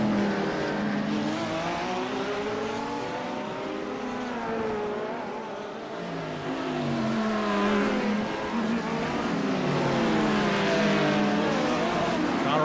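GT and LMP2 race cars battling at Long Beach, engines rising and falling in pitch as they accelerate and pass, with a commentator talking over the racing throughout.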